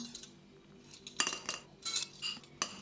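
A metal tablespoon scooping corn flour into a bowl, giving several close, light clinks and scrapes against the dish in an irregular rhythm.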